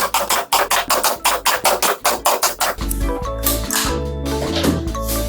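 Pneumatic tacker firing F30 pins into a merbau perforated wood panel, a fast regular volley of sharp close clacks, followed by a louder tonal droning mechanical sound with no talking.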